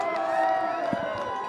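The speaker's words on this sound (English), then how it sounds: "This crowd here is deafening tonight." A home crowd roars and cheers at a night varsity high school football game between the Colts and the Pirates, a dense, sustained wash of many voices close by with a few louder shouts rising out of it.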